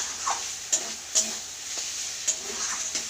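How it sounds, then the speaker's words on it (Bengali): Leafy greens frying in a wok, a steady high sizzle with a few sharp scraping clicks of stirring spaced through, close and fairly quiet, with no voices. "এই যে কড়াইতে লেগে ধরেছে মানে শাকটা আমার ভাজা হয়ে গেছে।"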